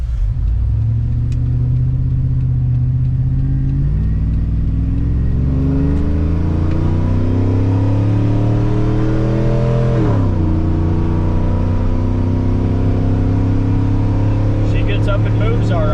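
A 6.0 Silverado with long tube headers and rear exit exhaust drones loudly while cruising, its deep exhaust note climbing steadily in pitch, dropping back, then holding a steady rumble.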